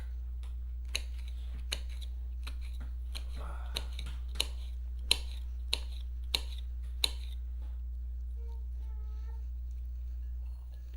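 A knife dices aloe vera pieces into smaller bits, giving a string of sharp, quiet clicks at an irregular pace over a steady low hum. The chopping stops near the end.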